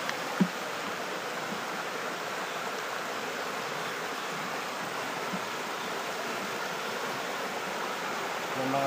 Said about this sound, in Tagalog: ang lakas ng agos ng tubig sa mga gilid eh